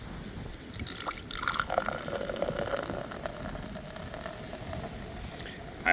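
Gulfstream Graphic IPA beer pours from a can into an oversized cup, giving a steady fizzy, splashing trickle that runs for several seconds, moderately close with no talk.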